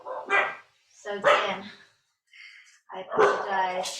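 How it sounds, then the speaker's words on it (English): A dog indoors gives several short, sharp barks in bursts, close and fairly loud, mixed with a person talking over and between them. "Sorry, that's my dog."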